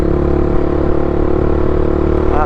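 A Honda Twister motorcycle engine runs close and loud in a steady, throaty rumble, holding a constant idle-like drone with no other sounds over it.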